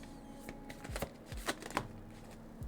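Tarot deck shuffled by hand: a quick series of crisp papery riffles and slaps in an irregular rhythm, close and clear with no talking.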